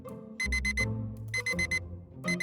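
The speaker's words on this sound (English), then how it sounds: "alarm beeps for the 4th time, but he doesn't move" An alarm clock beeps in rapid bursts of four tones, repeating in three groups, close and loud in a quiet bedroom.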